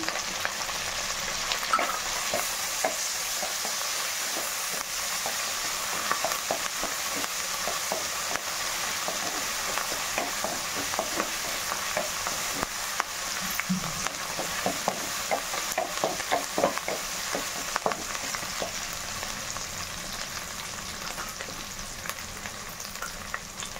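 Curry leaves frying in hot oil for veg fried rice, a steady close sizzle with the clatter of stirring scraping through it, lasting the whole stretch without talk.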